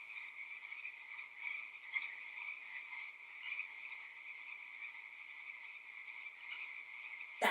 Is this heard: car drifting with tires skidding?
no